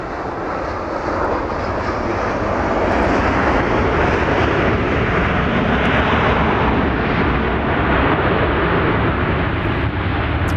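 A Southwest Boeing 737-700 jet, arriving from Amarillo, Texas, lands at Dallas Love Field with a loud, steady engine roar that fills the air throughout and swells slightly as it passes close overhead.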